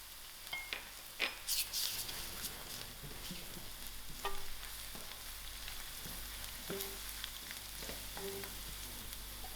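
Onions with garlic frying in a pan for a green bean dish, a steady soft sizzle broken by occasional clicks and scrapes of a spoon against the pan.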